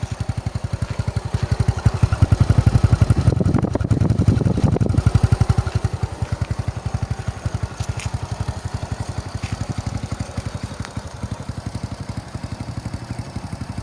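A Honda Wave 100 motorcycle engine runs steadily at idle with a rapid, even low putter that swells briefly louder near the start, then settles into a constant close-up chug.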